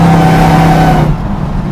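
A Hellcat-swapped Plymouth Cuda pro-touring build with 707 hp pulls hard and loud up close, its engine roaring with a steady high supercharger whine that fades after about a second.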